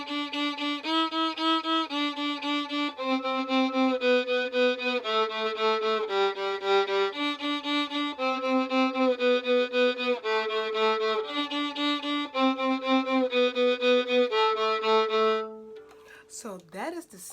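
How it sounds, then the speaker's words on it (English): Bowed violin or viola playing a steady sustained melody, one clear note after another with rich harmonics, close and loud throughout, ending in a brief upward sweep. "I'm going to play a little something something on the violin"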